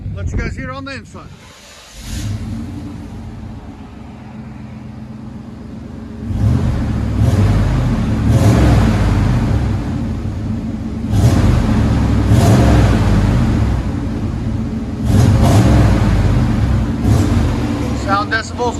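From inside the cab of a Chevy Silverado with a 5.7L V8 and a large catalytic converter, the exhaust gives several loud, sustained revs with steady idling between them, a muffled deep drone with rising surges.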